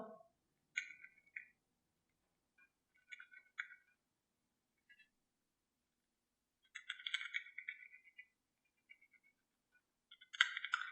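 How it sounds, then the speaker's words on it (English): A pen nib scratches across toothy watercolor paper in short, faint bursts of dry scraping with quiet gaps between strokes, close and otherwise silent. "You can hear the nib interacting with the watercolor paper because watercolor paper has a lot of tooth."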